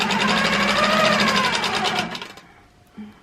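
A sewing machine quilting along quilting rulers hums steadily and loudly with a fast stitching rhythm, then winds down and stops, leaving a faint clunk at the end.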